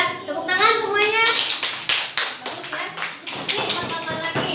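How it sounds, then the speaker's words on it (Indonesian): A classroom of fourth-grade schoolchildren claps hands together in a dense, continuous burst of overlapping claps, with children's voices mixed in at the start. "Udah, tepuk tangan semuanya."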